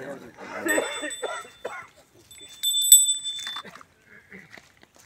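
A small ritual handbell rings in two bright, sustained bursts during a puja at the groundbreaking ceremony for a village community hall, with people talking nearby and between the ringing.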